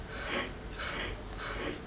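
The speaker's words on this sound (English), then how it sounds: "Exhale 5 short strokes through your mouth" Short rhythmic breathing strokes pushed out through the nose and mouth during a guided breathing exercise, a steady run of soft breathy puffs repeating about every half second, close and moderately loud, with no talk over them.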